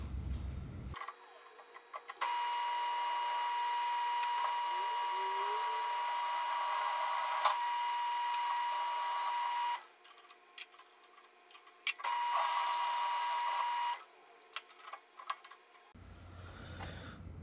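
A drill boring a 3/8 inch hole in a metal part for a DIY 2x72 belt grinder tracking mechanism whines steadily at high pitch for long stretches, stopping and restarting, with faint clicks and workshop handling noise between runs.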